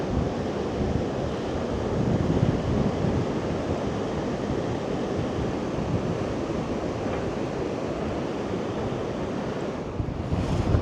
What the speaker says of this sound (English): I just wanted you to hear the sound of the sea because it sounds absolutely spectacular